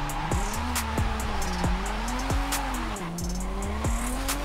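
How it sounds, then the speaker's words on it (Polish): In Forza Horizon 5, a turbocharged BMW M3 E drift car launches hard in third gear, its engine revving up and down over continuous tire squeal and skidding, loud and close. "startując na trójce, on ruszył ze strzału ze sprzęgła"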